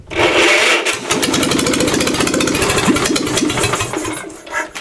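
A Wisconsin two-cylinder THD engine with a bad exhaust valve, on its first cold start in 20 years, runs loud, steady and close, with a rapid uneven chugging beat and sharp popping backfires.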